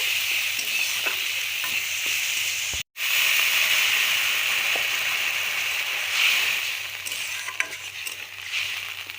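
Potato and tomato curry sizzling hard in a pan as a little water goes in, a loud continuous hiss and bubbling broken by one brief dropout, with stirring scrapes throughout.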